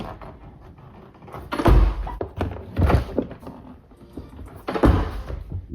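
A Tesla car door is opened with one finger: a few distinct soft thunks and latch clicks spaced a second or two apart, close and fairly quiet, with no talking.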